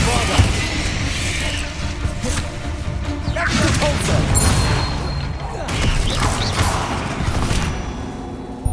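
Bombarda spell blasts in Hogwarts Legacy crash and burst several times in a loud, cluttered combat scene, with whooshes and impacts overlapping.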